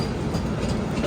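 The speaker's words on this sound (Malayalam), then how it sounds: "വന്ദേ ഭാരത് വന്നു." A Vande Bharat train pulls in at a station platform, a steady rumbling rail noise with low wheel roll and broadband hiss, close and continuous throughout, with no talk.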